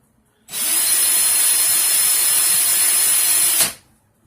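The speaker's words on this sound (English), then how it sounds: "I'm just going to hold this 36 gauge and reverse my drill." A power drill running in reverse on a 36 gauge Clapton coil whirs steadily for about three seconds at close range, starting and stopping abruptly with a high, even motor whine.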